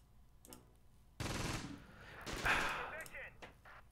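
Gunfire in the video game Close Combat: Battle for Caen, a loud burst of rapid shots followed by a second volley, fairly quiet overall with fading crackles after.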